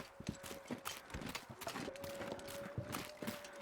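Rhythmic hoof-like footsteps of an animal in a snowy survival video game during an aurora near Milton: a steady run of clip-clop steps, fairly close, with a faint sustained hum underneath.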